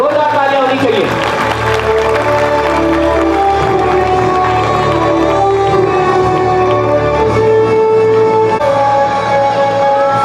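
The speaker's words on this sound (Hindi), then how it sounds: "जोरदार तालियां होनी चाहिए।" Loud audience applause and cheering at a school annual function in India honouring a student who scored full marks in maths, a steady roar of clapping and shouts mixed with music and voices throughout.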